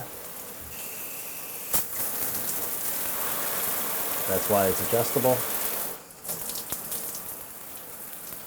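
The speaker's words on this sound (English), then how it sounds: "The water's going where it should be, not against the wall, but in the shower." Water sprays from a freshly cleaned shower head after hard-water buildup is removed, a constant hissing patter that runs steadily, with a brief clunk of adjustment and someone talking over it partway through.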